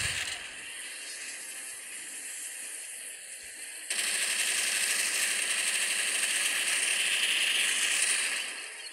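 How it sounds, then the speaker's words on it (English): A turret in the zombie shooter game Dead Trigger fires continuously at zombies, a steady hissing rattle of rapid shots that jumps louder midway and then cuts off near the end. "I'm gonna let my turret do its work."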